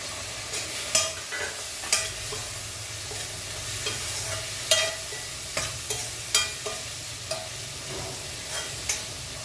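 Tomatoes being stirred into sizzling garlic tempering for rajma curry: a steady frying hiss runs throughout, punctuated by a dozen sharp scrapes and clicks of a spoon against the pan.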